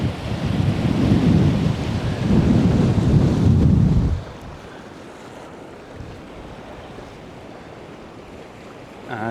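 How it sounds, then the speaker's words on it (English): Loud, rushing water roars steadily for about four seconds at a stream crossing on Dartmoor, then falls to a much quieter, constant flow. "It's our first water crossing of the day."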